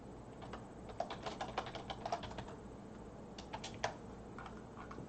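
Quiet, uneven bursts of keystrokes from a computer keyboard clatter close by during live game development work in Unreal Engine 4, with a short pause partway through and no talking.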